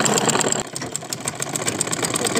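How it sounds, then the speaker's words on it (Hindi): A sewing machine runs steadily as it stitches a straight seam on trouser fabric, a close, continuous whirring with a fast needle rhythm and one brief dip. "इस पे सीधी सिलाई लगानी है हमको"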